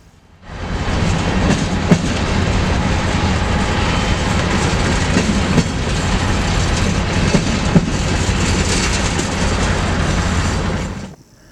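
BNSF yard movement with slug locomotive number 54 at Galesburg, Illinois: steady loud rolling of railcars with rhythmic clickety-clack wheel beats and a few sharp clanks, fading in at the start and cutting out at the end.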